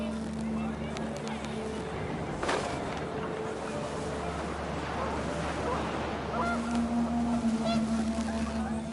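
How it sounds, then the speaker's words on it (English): Panicked geese honk in the What Remains of Edith Finch video game as the wind picks up, with a steady windy rumble underneath and a few scattered honks and cries coming and going. "The wind picked up, and panicked geese appeared and quickly went."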